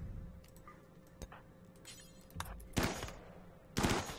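Scattered gunshots in RimWorld as colonists fire at animals in a temperate swamp: a few faint isolated cracks early, then two louder sharp bursts near the end over a quiet background.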